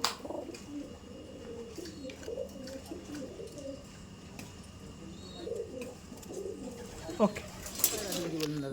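Madrasi pigeons coo softly in low, throaty murmurs throughout a loft, with faint chirps and a few sharper clicks and rustles toward the end.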